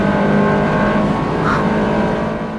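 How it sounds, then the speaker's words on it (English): A car drives hard on a race track during suspension testing, its engine droning loud and steady from inside the cabin with a brief change in pitch that suggests a quick gear change. "when I go to downshift to second, I sort of run out of gear and then have to upshift to third really quickly"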